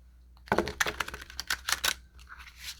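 A deck of tarot cards is shuffled gently at close range, giving a quick run of crisp papery riffles and flicks that lasts about a second and a half and then trails off quietly.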